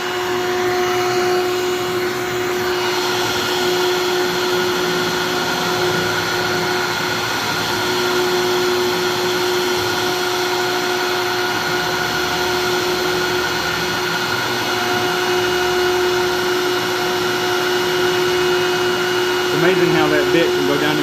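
A Onefinity CNC router bit running a rough cut cycle, a steady loud machine whine with constant tonal hum and spindle noise over the full length, ending with a slight rise near the close.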